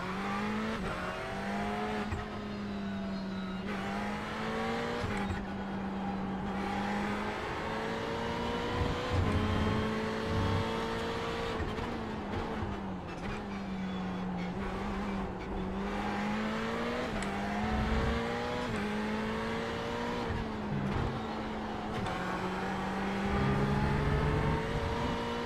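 A Ferrari GT3 car engine howls around Monza in the iRacing sim, revving up through gears and dropping sharply on repeated downshifts, continuous and loud with no voices over it.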